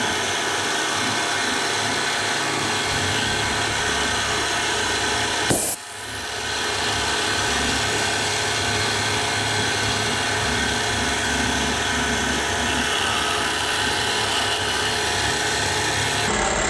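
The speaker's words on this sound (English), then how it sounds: "We're just going to machine it down in a circular pattern to kind of work our way down 25 thou at a time" A machine cuts down a bullet in a circular pattern, 25 thou per pass, with a loud, steady whirring grind. A sharp break at about six seconds drops the noise for a moment before the constant grind builds back.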